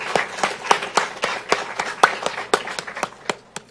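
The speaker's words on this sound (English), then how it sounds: "a round of applause for all of the fellows graduating from our program" Rhythmic hand clapping at a surgery department graduation for fellows, distinct claps in a fairly steady beat from a small group, close and moderately loud, no talk.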